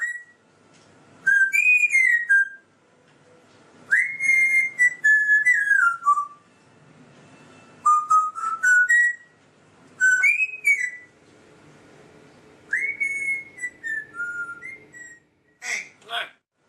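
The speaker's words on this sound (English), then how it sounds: "He's a parrot, and he's got a really good chant." An African grey parrot whistles a bright, tuneful melody in short phrases separated by pauses, with some chirpy squawks mixed in; loud and close.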